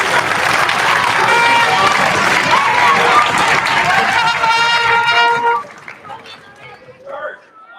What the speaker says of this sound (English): can we just give Ms. Taylor another round of applause?